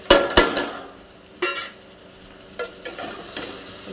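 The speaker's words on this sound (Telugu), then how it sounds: "ఇప్పుడు టమాటా ఒకసారి తిప్పేస్తున్నాను." Tomato, beans and potato frying in a pan, stirred with a few loud clattering scrapes over a soft continuous sizzle, the strokes bunched at the start and then coming in spaced bursts, close up.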